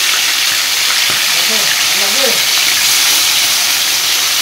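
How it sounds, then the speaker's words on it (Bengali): Fish frying in a generous amount of oil, a loud, steady close sizzle and crackle that fills the whole stretch, with a brief voice murmuring underneath. "মাছগুলো ভাজতে ছেড়ে দিচ্ছি।"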